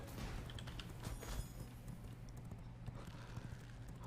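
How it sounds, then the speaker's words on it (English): A horse gallops in a PvP video game, quick repeated hoof clops over a low steady rumble, faint and continuous with no talking. "We gotta get the 11 horse and get out."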